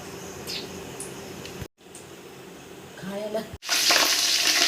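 Whole spices such as cardamom and bay leaf dropped into hot oil in a large pot for chicken biryani, giving a steady sizzle that breaks off twice and swells into a louder, brighter crackle at the end.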